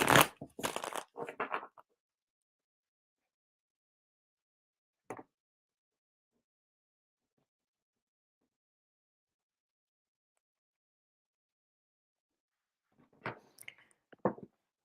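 A deck of reading cards is shuffled in a brief, crisp riffle at the start, followed by long silence, a single soft tap, and another short shuffle near the end, all close by and quiet.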